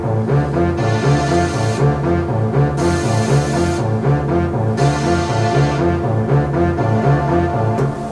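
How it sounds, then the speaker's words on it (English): Arpeggiated synth preset named Arpo Marks from a stock plugin set, playing a steady repeating pattern of bright plucked notes over a pulsing bass, loud and continuous with no voices. "It's called arpo marks, and it's a real cool sounding synth."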